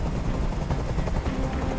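A helicopter hovering in Detroit: Become Human makes a loud, steady rotor roar that fills the short stretch without pause.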